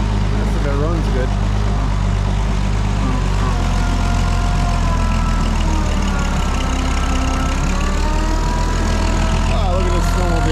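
An Oliver 77 tractor engine runs in the snow with a steady, deep idling rumble close by, while a voice talks over it.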